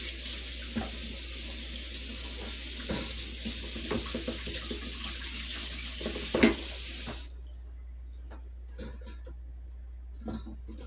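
Tap water runs steadily into a kitchen sink while items are washed up, with occasional clinks and knocks, then the flow stops and a few quiet handling sounds follow.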